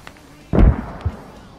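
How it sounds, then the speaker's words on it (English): One close, sharp mortar blast with a short rumbling tail, then a smaller thud a moment later, in a combat-game setting. "Good mortars."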